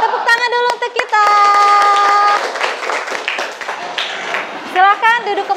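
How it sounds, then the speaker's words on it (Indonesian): A middle school class in Cilegon claps together on a teacher's cue, bursts of hand clapping mixed with children's voices chanting and calling out loudly nearby. "Tepuk tangan dulu untuk kita"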